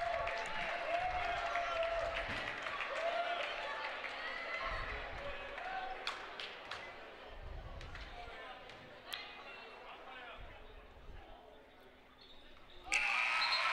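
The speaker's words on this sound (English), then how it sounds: "he comes out to a well-deserved round of applause" Courtside crowd at a basketball game gives a player a steady round of applause mixed with cheering and crowd chatter, bouncing balls and squeaking shoes, with a sharp burst of noise near the end.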